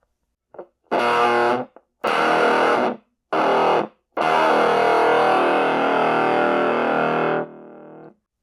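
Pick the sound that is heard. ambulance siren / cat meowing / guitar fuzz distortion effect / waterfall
guitar fuzz distortion effect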